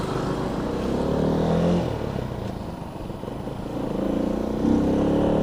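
Rusi Flash 150 carburetor motorcycle being ridden on a road toward Cagayan de Oro, its engine droning steadily and rising and falling with throttle, with a steady wind rush throughout.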